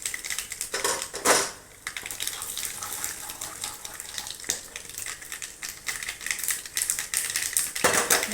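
Mustard seeds and urad dal splutter in hot oil with rapid, irregular crackling pops and occasional louder bursts, close and busy throughout.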